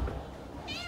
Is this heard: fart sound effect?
no